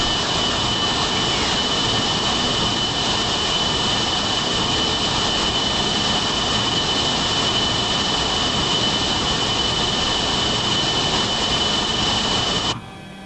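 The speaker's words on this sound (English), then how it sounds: "The old JT8D engines." Roaring DC-9 jet engines with JT8D turbofans from an Eastern Air Lines flight in Microsoft Flight Simulator 2020, a loud steady whine and rumble held for about thirteen seconds before cutting off abruptly.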